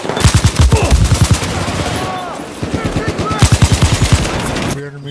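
Rapid automatic gunfire in Battlefield 4 rattles in loud, evenly spaced bursts, pauses briefly and then resumes. A voice talks faintly underneath.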